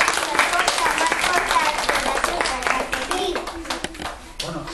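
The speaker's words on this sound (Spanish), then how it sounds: "aplauso, tío." Clapping and applause from an audience after a concert by sixth-grade girl students outside a castle gate, dense and steady throughout, with voices and children talking over it.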